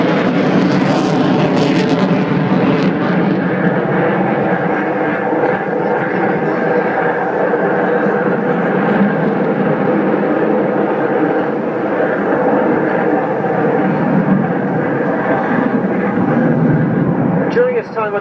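A Harrier jump jet flying past roars loudly and steadily throughout, a dense sustained engine rumble close by at an air show, with voices faintly present beneath it.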